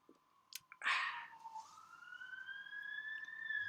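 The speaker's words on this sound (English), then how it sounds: "I think we're gonna have siren number 2 in a minute" A distant siren wails, its tone rising and holding steady, faint against a quiet background with a brief clatter at the start.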